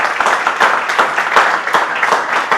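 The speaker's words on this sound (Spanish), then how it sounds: "dale un aplauso a Dios" A church congregation applauds together during a Spanish-language service, a steady dense patter of many hands clapping without pause, fairly close and loud.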